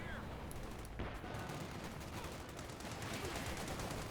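Dense, continuous gunfire from Company of Heroes 2 battle sounds, aimed at a squad of Panzer Grenadiers, with rapid overlapping shots and a steady roar throughout, under a commentator's voice.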